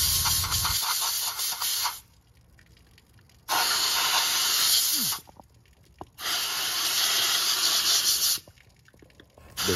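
A cheap little sandblaster shaken with its lid off, firing oversized media at an Edelbrock Torker intake for a 289; loud close hissing blasts, about four long bursts with short quiet gaps between them.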